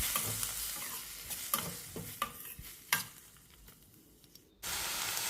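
Ripe tomatoes being sautéed and mashed in a pan for chutney: quiet sizzling under repeated scraping stir strokes, then a steadier, louder hiss near the end.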